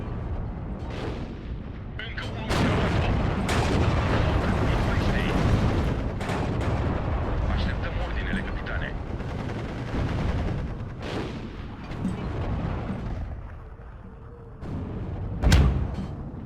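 Tank gun fire and explosions from a Steel Division 2 battle, including a 75mm gun, boom repeatedly through a dense, continuous wash of combat noise, with a sharp loud blast near the end and a voice talking over the action.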